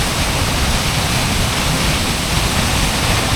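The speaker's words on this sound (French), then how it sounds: "Et genre aussi comment genre ça s'épuise jamais toutes les cascades ici." A powerful Icelandic waterfall cascades nearby, a loud, dense, unbroken roar of rushing water that fills the entire stretch with no voices.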